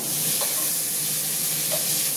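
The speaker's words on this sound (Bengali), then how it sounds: "এখানে ইলিশ মাছের মাথা আমি ভালো করে ভেজে দিচ্ছি" Steady sizzling of a hilsa fish head frying in hot oil, a constant bright hiss with a couple of faint clinks, no voices.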